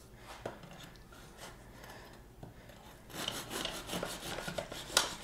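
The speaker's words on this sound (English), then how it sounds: "And I'll cut a few slices." Homemade honey oat bread gets sliced in a bread slicer guide, with soft rubbing and rasping knife strokes that grow louder and more rhythmic in the second half, ending in a brief sharp clink; no voices.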